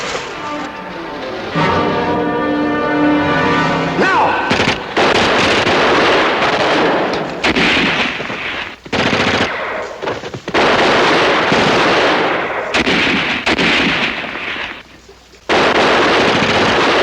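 Gunfire and explosions in a 1963 WWII TV battle scene, a dense, loud barrage of rapid shots and booming blasts lasting many seconds, with a few abrupt short pauses and a brief whistling tone early on.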